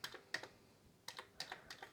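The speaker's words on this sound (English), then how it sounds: "let's try to see if the keyboard also works" Keys tapped on a Commodore VIC-20 home computer keyboard being tested after repair, a few quick irregular clicks close up in a quiet room.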